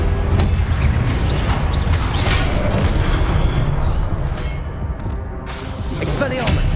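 Confringo blasting-spell explosions in Hogwarts Legacy: booming, crackling blasts and rumbling debris over nearly seven seconds, loud and full, with a short quieter lull near the end before the noise swells again.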